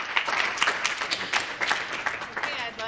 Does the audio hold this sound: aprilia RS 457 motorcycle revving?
no